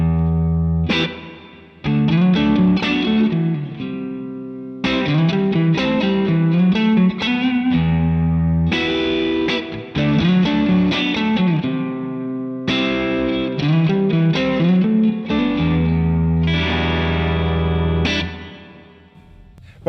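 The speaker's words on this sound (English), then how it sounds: "I prefer a darker spring, so I'm going to wind the tone back." Distorted electric guitar riffing through an MXR M300 pedal's spring reverb with the tone knob wound back for a darker sound, repeated chord phrases with brief pauses over twenty seconds, then a fading final chord.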